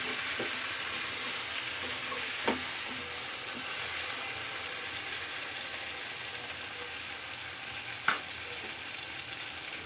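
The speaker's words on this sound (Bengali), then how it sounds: "মশলাটাকে ভালো করে কষাতে হবে।" A spice paste with turmeric fries in a pan with a steady close sizzle, broken by two brief knocks of a stirring spoon, with no talk.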